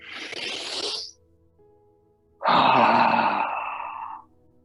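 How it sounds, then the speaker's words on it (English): A deep breath during a qigong session: a short airy inhale, a pause, then a long, loud exhale blown out through the mouth that slowly fades, heard up close with no talking. "as we blow out through the mouth, we're going to let the shoulders drop and continue to drop"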